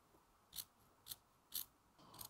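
Scissors snip through a fuzzy wire pipe cleaner for a spider lily craft, four quiet, sharp cuts spaced about half a second apart, close and isolated against a faint background.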